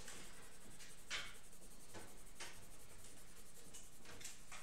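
Pencil strokes scratching across paper while a sketch is drawn and coloured in, a steady soft rubbing with a few sharper, brighter scribbles, close and quiet, no voices.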